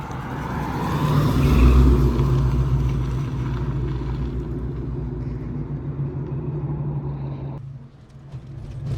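A Saleen Mustang drives past with a loud rattle over a deep rumbling engine, swelling as it nears and fading toward the end.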